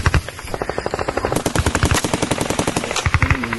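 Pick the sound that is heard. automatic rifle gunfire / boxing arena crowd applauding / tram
automatic rifle gunfire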